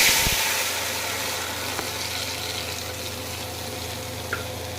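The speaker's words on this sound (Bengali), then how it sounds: "চলুন তাহলে আলুগুলো তেলে দিয়ে দিই।" Seasoned potatoes frying in hot oil in a pan for a bele fish dish give off a steady, loud broadband hiss that fades slightly after the first moments, with no voices.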